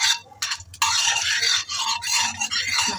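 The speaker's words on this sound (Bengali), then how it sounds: "দিয়ে ভালো করে নাড়াচাড়া করছি" A spoon stirs whole spices, cardamom pods, cloves and a dried red chilli, tempering in hot oil in a pan. It makes a close, steady scraping rasp in repeated strokes with brief pauses between them.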